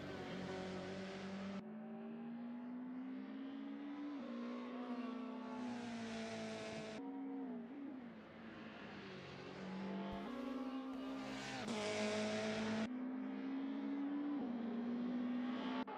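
Race cars in a racing video game howl along the track, one close engine rising and falling in pitch through gear changes, with other cars faintly underneath.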